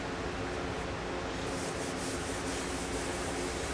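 Rubbing finish into a wooden DVD cabinet with an old sock gives a steady, close, hissing rub with no pauses and no talk.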